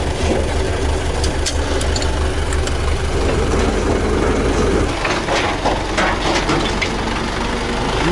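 A heavy tractor engine in a Chernobyl-set video game idles with a loud, steady low rumble throughout, with occasional clanks and knocks on top.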